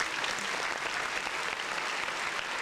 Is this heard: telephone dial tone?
no